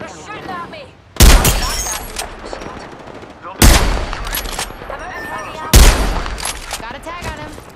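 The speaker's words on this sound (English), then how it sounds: "Taking fire, boss. They're shooting at me." Gunfire in the battle royale game Apex Legends: three loud, sharp bursts of shots spaced a couple of seconds apart, each with a ringing tail, under a voice talking and game effects.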